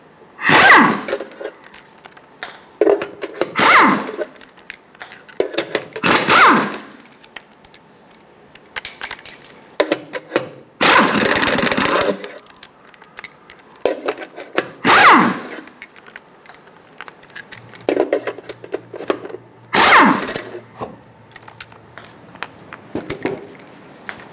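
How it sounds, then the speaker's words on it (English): Lug nuts come off a Toyota Tacoma wheel with a 21mm socket, heard as repeated loud bursts of an impact tool with metallic rattles and clinks between them, spaced out over the length of the clip. "Using a 21mm socket, remove the 6 lug nuts."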